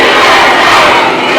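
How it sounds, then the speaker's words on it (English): A wrestling crowd in Greenwood roars in a loud, dense chant, voices merging into a continuous shouting mass with no distinct breaks. "this crowd here in Greenwood now breaking out with the Texas chants and the USA chants"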